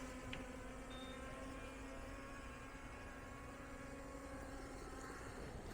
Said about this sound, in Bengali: এখন আমি ড্রোনটাকে আস্তে করে ল্যান্ড করাবো।